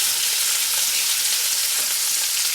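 Bacon sizzles loudly and steadily in a non-stick pan as it is turned with tongs, a close, dense crackle with no talking.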